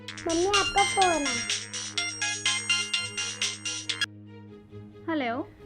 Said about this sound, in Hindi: मम्मी आपका फोन है।